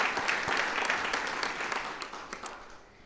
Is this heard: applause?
yes